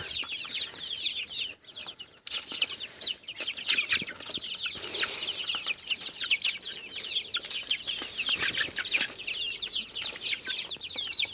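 Many chicks cheep in a constant high-pitched chorus, including Cochin chicks, with occasional hen clucks and rustling mixed in throughout.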